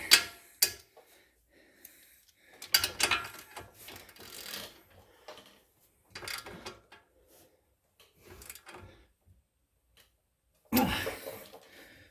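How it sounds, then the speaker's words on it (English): Hand ratchet working an axle shaft bolt on a 2004 BMW 325xi E46 front passenger side, heard as several separate bursts of clicking, near and moderately loud, with quiet gaps between them. "We'll use a hand ratchet to go the rest of the way."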